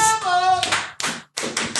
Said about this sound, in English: that's two claps